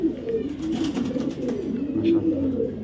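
Racing pigeons cooing close by, low throaty calls rising and falling in repeated phrases, with faint background noise.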